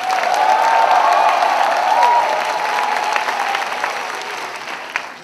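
A worship-service audience at a student retreat claps loudly and continuously, the applause slowly thinning toward the end, with scattered shouts blended in.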